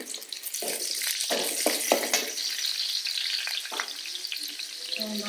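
Dried red chillies sizzle in hot oil in a pan while pirandai thuvaiyal is made, a steady crackling fry with a few sharper pops and stirring scrapes, close and continuous with no talking.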